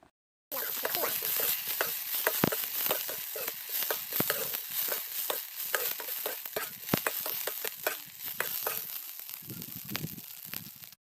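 Rice grasshoppers dry-roasting in a pan crackle and tick in a steady dense patter, with frequent sharp pops and scraping stir sounds throughout, close and moderately loud.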